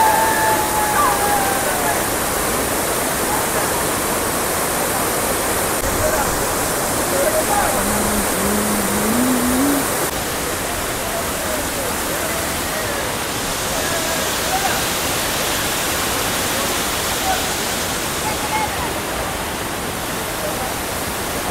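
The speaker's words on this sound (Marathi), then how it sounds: "चला दाखवतो तुमचा वॉटरफॉल" The Savdav waterfall roars as a loud, constant broadband rush of falling water, heard close with no pauses and a faint voice occasionally audible beneath it.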